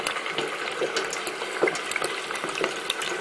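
Hot wings deep frying in a Fry Daddy fryer, a dense, close hiss of bubbling oil with scattered pops and crackles throughout.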